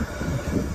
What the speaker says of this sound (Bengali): এই ট্রেনটা ছাড়বে, এক্ষুনি ছাড়বে।